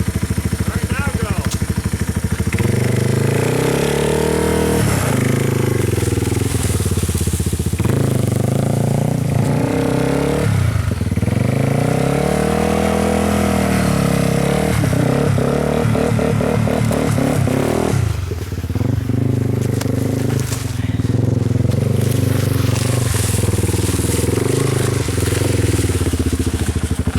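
A modified 2009 Yamaha TW200 motorcycle fitted with homemade ice tires revs on ice, its engine rising and falling in repeated bursts with scraping and clatter, close and loud, while people talk and shout over it.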